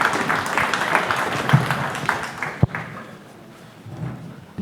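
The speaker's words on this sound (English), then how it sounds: "Go ahead and clap." An audience claps for a panel's arrival at a partnerships event: a dense patter of hands fades after a couple of seconds, followed by quieter room noise.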